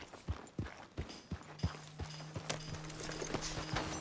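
Horse hooves in the video game Red Dead Redemption 2 clip-clop at a steady walking rhythm, soft and fairly distant, with a low steady hum joining partway through.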